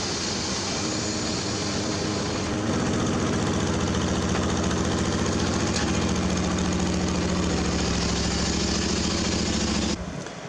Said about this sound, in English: Okay, the Jeep has been pulled out of the garage.